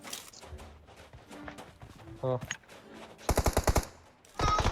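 Gunfire in the video game PUBG Mobile: bursts of rapid automatic shots, loudest in a dense run past the three-second mark and again at the end, with a player talking in between.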